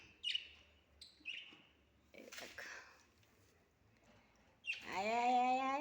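Pet birds at home give scattered short chirps and tweets, fairly quiet and spaced apart, ending in a louder sustained tonal call.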